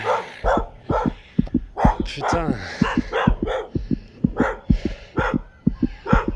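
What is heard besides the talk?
dogs barking aggressively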